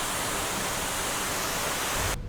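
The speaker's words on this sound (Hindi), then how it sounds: "तो यहाँ सामने पे देखिए कितना सुंदर वाटरफॉल है।" A broad, steady rush of falling water from a scenic waterfall at a kund in a hilly village area, continuous and loud throughout, dropping away abruptly at the very end.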